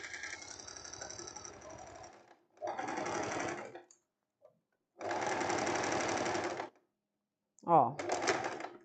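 Sewing machine stitching a summer tank top, three bursts of steady rapid mechanical whirring separated by pauses, with a short click and a brief voice near the end.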